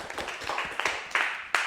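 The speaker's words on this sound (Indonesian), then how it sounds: "Beri tepuk tangan untuk kelompok 1" Students in a classroom clap for group 1, a brief burst of scattered, uneven hand claps, moderately loud and with no voices over it.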